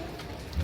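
Steady, dense hiss of heavy rain falling outdoors in a residential area, even and continuous through a very short stretch with no voices.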